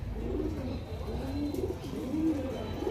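A pigeon coos softly in a repeated, low rolling pattern, several phrases in succession against a quiet background.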